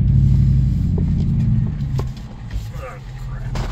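A vehicle rolling along and slowing as it pulls over, a steady low engine and road rumble up close, easing off toward the end, with someone talking over it.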